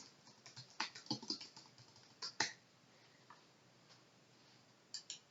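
Light, uneven keystrokes on a computer keyboard while entering header text in an office document, with a quick cluster of taps followed by a few sparse, faint clicks in a quiet room.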